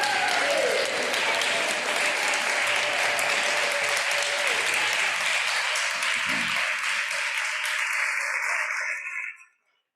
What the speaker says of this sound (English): could I have a standing ovation for Wendy and Dee